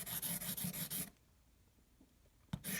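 A compass lead is sharpened with quick, rhythmic rasping strokes for about a second, followed by near silence and one short scrape near the end.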